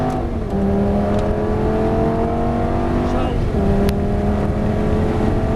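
Lamborghini Gallardo accelerating down a track straight, a loud, close engine note climbing steadily in pitch through two gear changes, heard from on board, with a voice faintly underneath.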